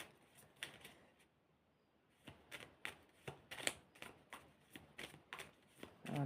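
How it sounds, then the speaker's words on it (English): Tarot cards are shuffled close by in a quick run of crisp riffling flicks, then a short pause, then another steady rhythmic series of snaps. "Oh, these are well shuffled"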